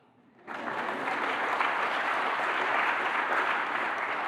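Sudden dense applause from an audience at a chamber of commerce awards event swells in and holds steady, broad and sustained, with no voices on top.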